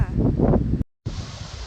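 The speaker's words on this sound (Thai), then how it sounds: "ลมแรงค่ะลมแรงมากเลยค่ะ" Strong wind buffets the microphone on a bridge in the Netherlands, a loud, steady low roar that drops out briefly before resuming.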